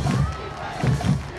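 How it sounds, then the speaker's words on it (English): Cabot fans at a high school football game at Benton cheer and roar loudly from the stands in two big surges of crowd noise, with a quieter lull between them. "Cabot fans cheering loud"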